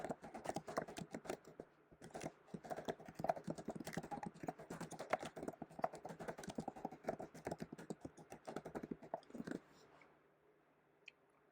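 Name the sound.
typing on a computer keyboard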